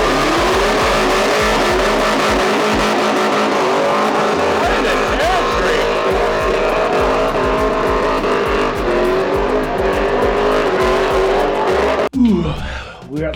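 Loud, sustained engine revving from a car doing a smoky burnout at Springnats, with roaring exhaust and tire squeal running almost continuously before cutting off near the end amid crowd and ambient noise.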